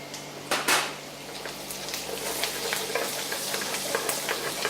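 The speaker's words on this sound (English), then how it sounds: "Chilies next, again roast them a little bit." Chilies roast in a pan with a soft, continuous sizzle and a few clinks and stirring sounds near the start, quiet and close in a restaurant kitchen.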